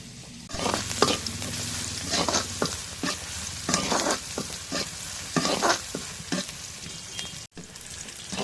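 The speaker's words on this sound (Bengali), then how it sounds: "এখন মরিচ কাটা পেঁয়াজ কাটা দিয়ে দিই, রসুন শসা দিয়ে দিই।" Chopped chilli, onion and garlic frying in oil in a karahi, a loud close sizzle with repeated scraping strokes of a spatula stirring the pan, no speech.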